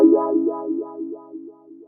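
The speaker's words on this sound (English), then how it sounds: "the next sound that I used was a wah sound from a sample pack" A wah synth sample from a sample pack, pitched down about 800 cents, plays alone as a series of soft, mid-low wah swells that repeat roughly every half second and gradually fade.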